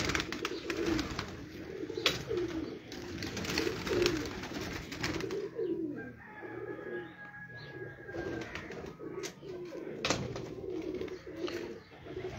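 Pigeons coo repeatedly on a rooftop loft where pigeon fanciers keep their birds, soft rolling calls layered over a steady background hum, with other bird chirps mixed in and faint voices now and then.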